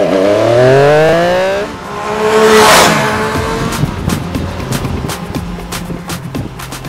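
A Triumph Street Triple RS motorcycle engine revs freely, its pitch climbing quickly before a loud rushing whoosh. Lighter rough engine noise and sharp ticking follow as it fades.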